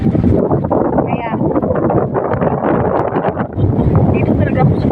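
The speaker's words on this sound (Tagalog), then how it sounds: "Sobrang hangin. Hangin, grabe." Strong wind buffets a boat out on the water, a loud, steady roaring rush of air that fills the whole clip, with voices talking underneath it.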